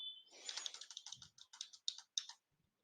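Keys tapped on a computer keyboard in a quick, uneven run of crisp close clicks, alone, stopping abruptly near the end.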